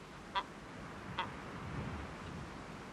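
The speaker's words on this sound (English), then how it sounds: "Tame birds by nature, the upland geese, enjoying the green grass and the freshwater ponds of the settlements." Two brief, faint calls from upland geese at a Falklands settlement with green grass and freshwater ponds, spaced about a second apart over a soft, steady outdoor hiss.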